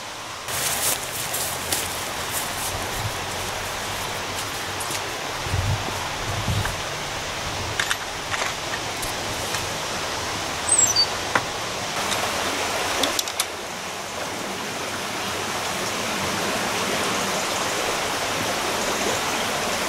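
The River Dove in the Peak District flowing under a footbridge, a steady broadband rush of running water that continues throughout with a few faint clicks and knocks.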